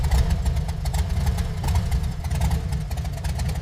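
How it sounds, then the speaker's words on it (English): Old American vehicle engine running after restoration, a low rhythmic idling rumble with regular firing pulses, steady and close throughout. "After decades of silence, the engine finally came alive again."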